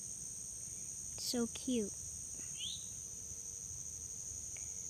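A cicada resting on a finger outdoors gives a steady, thin, high-pitched drone that runs unbroken throughout, while a person speaks briefly near the microphone over it.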